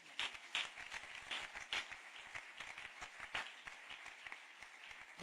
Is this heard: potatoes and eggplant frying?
no